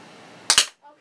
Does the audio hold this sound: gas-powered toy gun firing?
yes